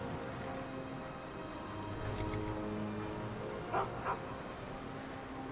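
A dog barks in the video game Skyrim near the city of Markarth, giving a couple of brief, fairly distant yelps over a steady ambient game background with low droning tones.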